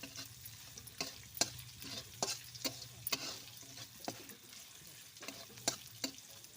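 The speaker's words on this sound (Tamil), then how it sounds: "நல்லா வெங்காயம் வதக்குப்போம்" Onions sauté in a pan for a sambar, a soft frying sizzle broken by repeated sharp scrapes and taps of a spatula stirring at an uneven rhythm, close and clear with no talk.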